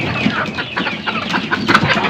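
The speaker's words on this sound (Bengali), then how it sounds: "মুরগির বাচ্চা আছে, সেগুলোকে আমি এই যে এখানে আটকিয়েছি" Hens and young chicks shut in a coop after two days of rain cluck and peep close by in a busy, overlapping chatter.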